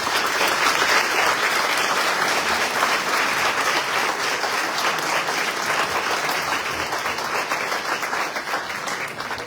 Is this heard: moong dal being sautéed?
no